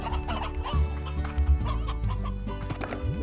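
Hens clucking in the Slime Rancher video game, a few short clucks over a steady hum of game music and ambience.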